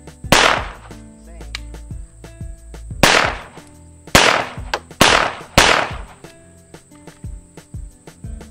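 Semi-automatic pistol firing black powder Pyrodex rounds outdoors, five loud sharp reports in an uneven sequence with ringing echoes and metallic clatter between shots.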